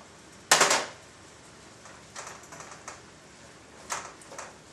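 A utensil stirs taco filling with taco seasoning in a pan, giving one sharp scraping clatter followed by lighter, scattered clicks and scrapes at a moderate distance.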